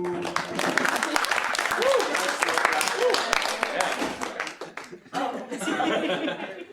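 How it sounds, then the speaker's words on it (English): Scattered clapping from a small group gathered in a student senate meeting room, steady for several seconds amid light laughter and voices, then a brief dip and a softer burst of clapping near the end. "We can just clap."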